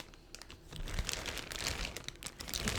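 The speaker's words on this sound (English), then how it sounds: "Ignore that these pieces are in a plastic bag" A plastic bag holding chess pieces crinkles steadily, a continuous close rustle with a few brief crackles, fairly quiet and with no talking.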